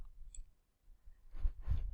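A computer mouse gives two quiet clicks about a third of a second apart, with faint low room hum before them.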